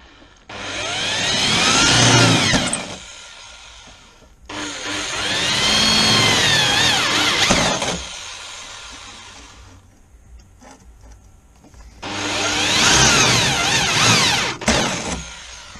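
A power drill bores holes in three bursts of a few seconds each, whining up and down with short pauses between, fairly loud and close, with no talk.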